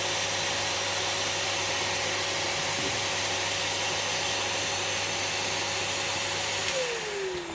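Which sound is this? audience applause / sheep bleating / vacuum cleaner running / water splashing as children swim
vacuum cleaner running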